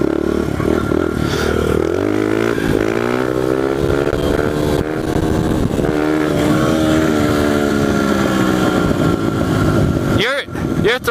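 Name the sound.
pit bike engine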